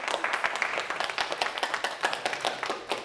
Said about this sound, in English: Why is nobody clapping?